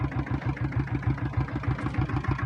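A Royal Enfield diesel Bullet motorcycle idles in neutral, its single-cylinder engine thumping in a fast, even, close-up rhythm with mechanical clatter over the top.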